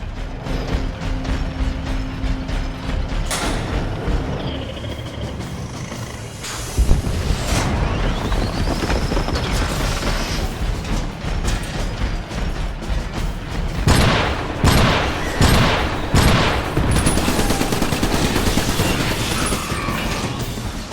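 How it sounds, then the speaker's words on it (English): Shotgun turret emplacement in the video game Iron Brigade deploying with mechanical ratcheting and gear whirs, then firing a burst of loud booming shots near the end over a busy battlefield background. "Shotgun turret inbound to your location."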